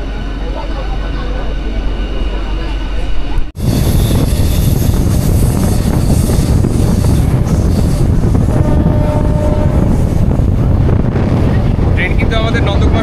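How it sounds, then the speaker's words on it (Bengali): A train on the Tamluk to Digha line rolls into Nandakumar station, a loud, steady rumble with heavy wind buffeting that continues unbroken after a sharp cut early on. "তো আমাদের ট্রেন কিন্তু ঢুকে গেল নন্দকুমার স্টেশন।"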